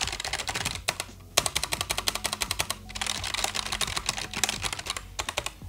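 Fingers type quickly on a ROCCAT Vulcan II Max keyboard with red switches, giving a dense run of soft, flat, non-clicky keystrokes heard up close with brief pauses between bursts.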